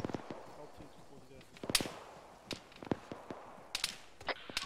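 Distant enemy gunshots in the ArmA 3 military shooter, scattered sharp cracks and pops coming from a field off to the right, fairly faint, with voices talking over the quiet stretches.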